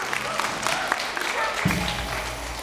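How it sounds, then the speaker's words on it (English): A small group claps steadily for a few seconds, with a voice speaking over the applause. "That does deserve a hand clap."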